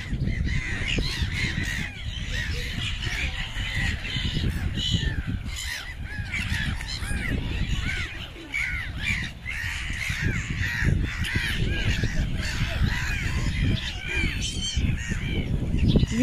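A large flock of crows and gulls calls continuously on a windy lakeside promenade at Kengarags where birds are fed, with dense overlapping caws close by over steady wind noise.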